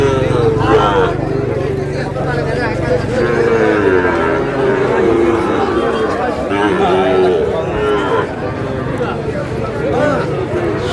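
Sahiwal bull calves low and moo repeatedly at a busy cattle market in Faridpur, loud and close, amid continuous crowd chatter and people talking.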